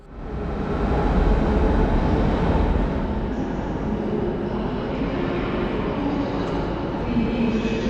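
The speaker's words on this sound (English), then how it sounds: "the arriving train just went sailing on past me" Polish PKP Intercity train passing straight through a station without stopping, a loud, steady broadband rumble and rush of wheels and motion that swells in the first second and holds throughout, close by, with no talk.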